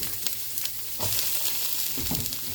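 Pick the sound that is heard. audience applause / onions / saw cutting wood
onions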